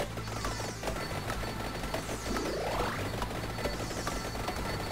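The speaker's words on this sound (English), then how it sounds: "There's a bunch of explosions happening next to me." Vampire Survivors gameplay, with dense rapid crackling game explosions and gunfire-like bursts layered under a rising synthetic whoosh, continuous and busy throughout, no voices.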